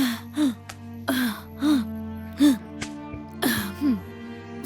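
Someone coughs repeatedly in a smoke-filled home, five or six close, harsh bursts in an uneven rhythm, each with a voiced, strained edge over a quiet background hum.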